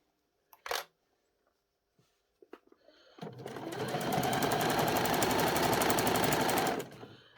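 A sewing machine runs steadily for several seconds, stitching the elastic waistband of jogging bottoms, after a few light handling clicks and taps beforehand; loud and close with no speech.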